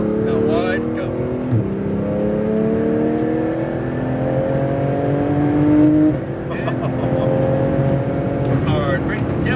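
A sports car at full throttle on a track, the engine note rising through gears with quick shift dips, loud in the cabin, while people talk over it.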